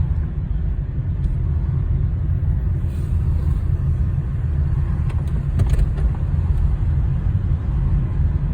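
A car cruises along the Bahçelievler driving test course keeping its following distance, producing a constant low rumble of engine and tyres inside the cabin, with a few faint clicks and rattles and no one speaking.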